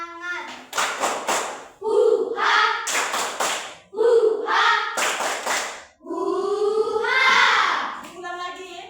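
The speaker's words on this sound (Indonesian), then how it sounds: "Akan kita tahu tepuk semangat" Schoolchildren in a classroom perform a patterned rhythmic clap routine, with sharp clustered claps alternating with children chanting in unison between the bursts.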